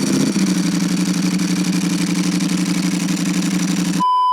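A Ducati Panigale V4 SP2 motorcycle with a dry clutch idles up close, a loud steady low rumble with an even rattling pulse that cuts off abruptly near the end.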